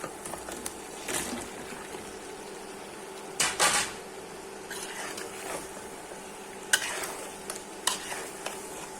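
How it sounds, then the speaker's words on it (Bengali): Pumpkin pieces go into a pan of sizzling fried spice paste for a hilsa fish curry, with a low steady sizzle broken by scattered clatters and scrapes of a utensil against the pan. "মশলাটা কষানো হয়ে গেছে, এখন কুমড়োগুলো ছেড়ে দিচ্ছি"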